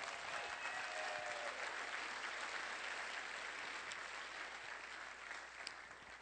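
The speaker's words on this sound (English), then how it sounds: "But that deserves a round of applause." Steady audience applause fills the room at an awards ceremony, a sustained wash of many hands clapping that holds strong and tapers only slightly toward the end.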